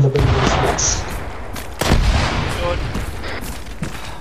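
Heavy 40mm grenade launches and explosions rumble in the Arma 3 war game, a sharp boom near the start and another big blast midway, set against continuous battlefield gunfire.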